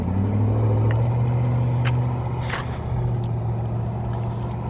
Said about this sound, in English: It's a big pickup truck.